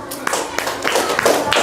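Classroom clapping from students, a burst of scattered hand claps rising to a fuller patter toward the end, with voices mixed in.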